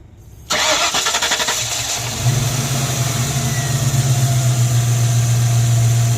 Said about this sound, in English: We're going to see if it'll fire up and run.